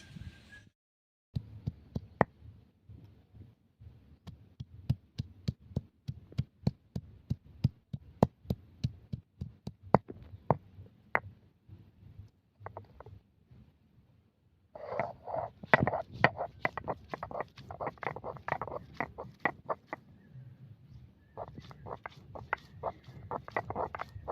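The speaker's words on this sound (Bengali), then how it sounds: "উনুনটা ধরানোর আগে আমি পেঁয়াজ আর আদাটা বেটে নিচ্ছি" Onion and ginger being ground by hand on a stone, a run of sharp rhythmic knocks and scrapes, fairly close, with short pauses and a denser, louder grinding stretch in the second half.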